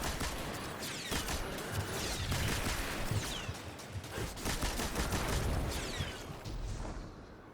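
Rapid weapon fire from the video game Destiny 2, a dense stream of sharp shots and bursts with crackling impacts, sustained and fairly busy throughout with no talk.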